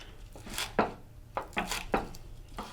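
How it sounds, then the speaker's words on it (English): Knife roughly chopping trimmed green onions on a cutting board, a string of crisp, uneven thuds close to the listener over faint background noise. "And we're just going to roughly chop these."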